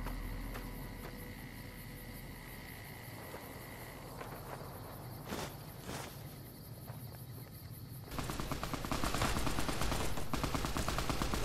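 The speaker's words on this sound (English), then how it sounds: "Are you shooting at me? Who are they shooting at?" Gunfire in Fallout: New Vegas plays over a steady chirp of crickets. A few scattered shots come first, then a dense, continuous burst of rapid fire swells in loudly near the end.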